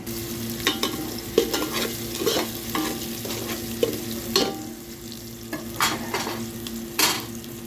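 Onion, green chili and tomato frying in oil for an amaranth-leaf kadayal, a steady close sizzle with frequent scraping stirs of a spoon through the pan, no voices.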